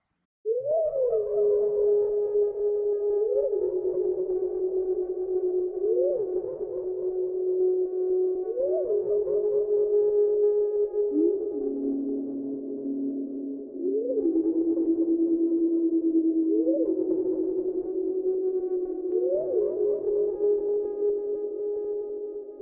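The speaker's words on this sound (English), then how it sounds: "So the first synth that I created is a pad and I named it Chill Pad." A sustained, smooth synthesizer pad plays alone, with soft swelling chords that shift gently every few seconds over a steady, warm drone.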